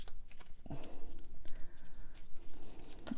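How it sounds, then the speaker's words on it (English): Rapid papery fluttering and snapping of unsleeved playing cards being riffle shuffled, a close crackling burst with soft taps, no talking. "I don't sleeve my cards and I'm riffle shuffling"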